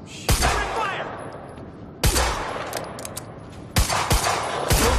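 Gunfire in the Quantum Break video game, loud repeated bursts of shots separated by short gaps, with sharp cracks and rattling automatic fire over a busy combat background.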